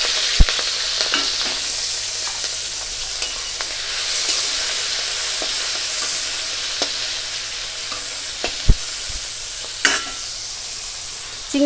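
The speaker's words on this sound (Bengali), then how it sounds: "এখন এই তেলের মধ্যে দিয়ে দেব চিংড়ি মাছগুলো।" Prawns fry in well-heated oil, giving a steady, close hiss and sizzle with a few soft clinks of stirring and no talk over it.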